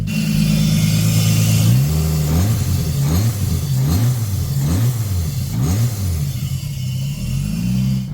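A Skyline RB25DET straight-six swapped into a Nissan 240SX and running on E85 idles loudly up close, then is blipped through a series of rising and falling revs in a steady rhythm before settling back.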